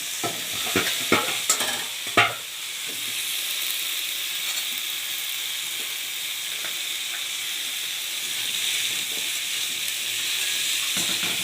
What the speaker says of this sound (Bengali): দিয়ে একটু ভালো করে পেঁয়াজের সঙ্গে ভেজে নেব